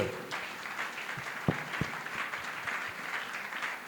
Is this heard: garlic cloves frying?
no